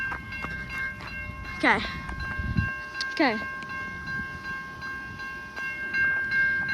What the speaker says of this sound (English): Yep, I see the train. It's just over there.